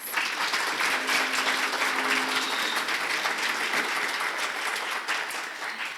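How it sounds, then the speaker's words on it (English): An audience at a volunteer awards ceremony in Memphis applauds the volunteers with sustained, dense clapping that holds steady throughout and tapers only slightly near the end. "Let's give all of our volunteers a round of applause."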